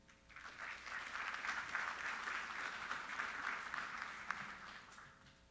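Audience applause fills a room at a smart growth summit in Louisiana, a steady sustained clapping from a crowd that swells briefly and holds throughout without voices.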